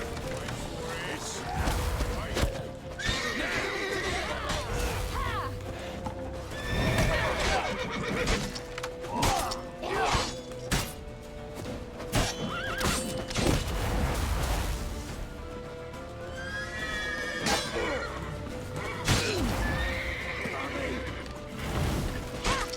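A horse in The Witcher 3 video game neighs repeatedly over clip-clopping hooves, loud and close, with a player talking over the game sounds.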